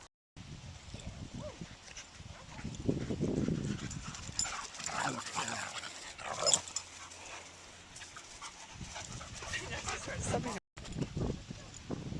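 Dogs in a park pant, whimper and bark amid general outdoor noise, with people talking nearby throughout.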